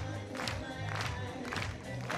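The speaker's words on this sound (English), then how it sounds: "the crowd getting right behind this one" A crowd of archery fans, Ukrainian supporters among them, cheer and shout in bursts during a recurve team final shoot-off in Berlin, the noise swelling and fading over a few seconds.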